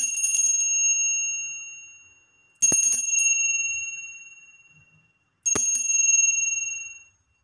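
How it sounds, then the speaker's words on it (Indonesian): A bright metallic bell rings three times at even intervals, each strike ringing out and slowly fading before the next. "ditandai dengan lonceng berbunyi"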